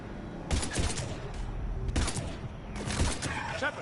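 Gunfire in the video game Mass Effect 3, three short, sharp bursts of shots at roughly one-second intervals, fairly loud against a quieter game background.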